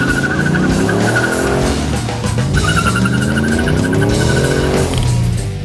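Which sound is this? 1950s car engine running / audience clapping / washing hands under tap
1950s car engine running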